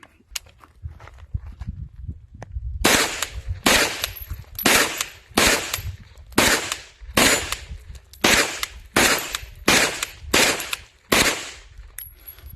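A Scorpion pistol test-fired with a magazine glued using E6000 lets off about ten sharp, loud shots spaced at a steady, deliberate pace, each one a hard crack that dies away quickly.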